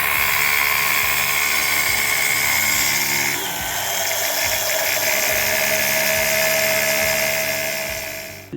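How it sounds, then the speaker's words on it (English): A small pump running while cleaning a BMW M57 diesel intake manifold with carb cleaner: a loud, steady high-pitched whirring whine with rough low chatter underneath, continuous and close, its tone shifting slightly midway. "Here this is the pump, and I'm going to pump everything what's inside."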